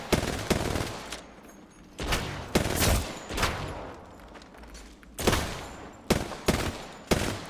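Repeated bursts of gunfire in the Apex Legends video game, sharp volleys and short rapid strings spaced irregularly, loud and close with no talking over them.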